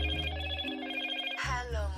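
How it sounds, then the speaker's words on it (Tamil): A mobile phone rings again with a steady electronic ringtone of layered tones, loud and close, with no talking over it. "திரும்பவும் ஃபோன் அடிக்குது ப்ரோ."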